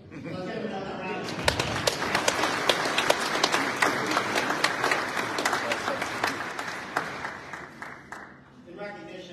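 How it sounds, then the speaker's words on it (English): Applause at a spring graduation ceremony at a technical school campus in Mahwah, New Jersey, a large audience clapping loudly and steadily for several seconds before tapering off abruptly. "Let's give another round of applause."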